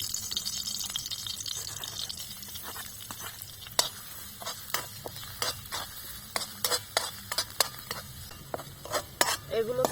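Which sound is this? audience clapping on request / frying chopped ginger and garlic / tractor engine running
frying chopped ginger and garlic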